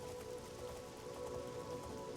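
Steady, soft rainfall patters continuously while riding on horseback in the video game Oblivion, a faint even hiss with a low tonal drone beneath and no voices.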